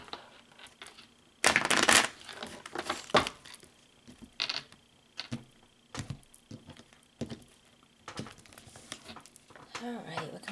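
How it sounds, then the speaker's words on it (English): A deck of tarot cards being shuffled up close, in quick papery bursts of riffling and flicking separated by short pauses. "One more shuffle, I'll cut the cards and we'll get started."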